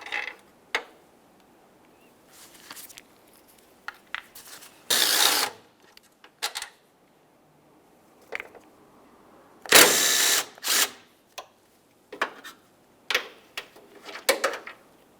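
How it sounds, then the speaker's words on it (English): Removal of the 8mm headlamp mounting bolts on a Mercury Grand Marquis, with intermittent bursts of a power tool or ratchet spinning and clicking between quiet gaps, close by. "we'll continue on by removing our 3 8mm headed bolts that hold the headlamp assembly to the body of the vehicle"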